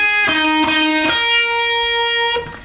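Electric guitar picking a few slow single notes of a solo, four distinct clear plucks with ringing sustain and the last note held, played alone.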